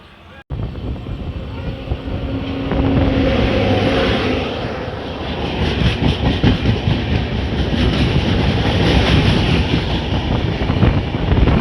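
The Dhauli Express rolls on after pulling out of Sakhigopal station, a loud, steady rumble of wheels and carriages with faint clickety-clack building and staying close for the whole stretch.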